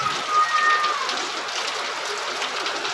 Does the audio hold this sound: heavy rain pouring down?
yes